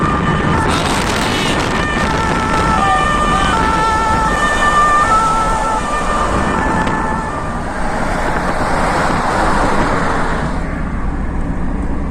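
Road traffic in a traffic jam on a highway in the Donetsk region, heard from inside a moving car as a loud steady road roar, with a faint siren-like tone wavering through the middle, no talk.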